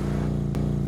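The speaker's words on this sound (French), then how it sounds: "Moto." A motorcycle engine drones at a steady pitch, a brief continuous hum that holds level and neither rises nor fades.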